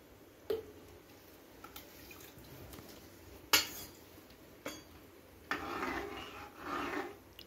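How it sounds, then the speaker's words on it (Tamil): A spoon scrapes slowly through thick Sri Lankan dodal mixture in an iron pan over a low flame, making sparse, irregular scrapes and knocks, with one longer rasping stir near the end and no talking. "ஸோ அடுப்பை சிம்மில் வச்சே இந்த மாதிரி ஸ்லோவாக கிண்டிருங்க"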